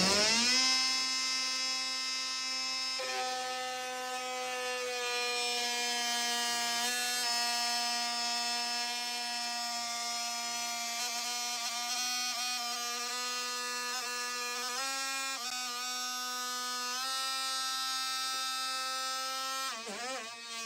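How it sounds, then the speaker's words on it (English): 12-volt brushless oscillating multi-tool plunge cutting into wood under a weighted test rig, a continuous buzzing whine with strong steady harmonics lasting about twenty seconds, shifting slightly in pitch as the blade bites deeper. "we're going to do ourselves a good old-fashioned wood plunge test"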